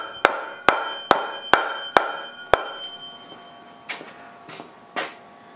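Sharp hammer blows drive a part into place during repair work on a 1970s Starduster: six evenly spaced strikes in quick succession, then a pause and three softer, more ringing hits, with no talking.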